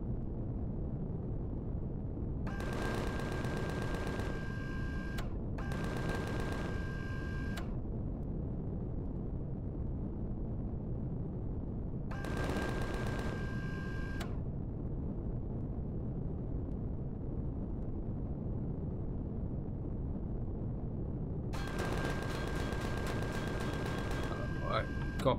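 Weapon fire in the sci-fi video game Empyrion Galactic Survival comes in four sustained, ringing bursts of a few seconds each, separated by pauses over a constant low rumble.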